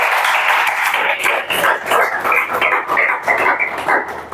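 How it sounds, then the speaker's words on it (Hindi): A classroom of students clapping loudly together in a dense, steady burst of overlapping hand claps that fills the space, lively and continuous for several seconds with no talking over it. "जोरदार ताली बजाओ।"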